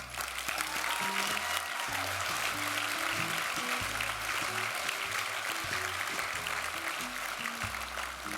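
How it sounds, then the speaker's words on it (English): Sustained applause from an audience at a celebration event, steady and dense throughout, filling the room without a break. "Let's give Leanne another round of applause"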